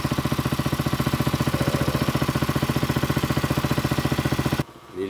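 A small water pump motor runs steadily close by with an even, rapid chugging pulse, outdoors near garden plants, then cuts off abruptly near the end.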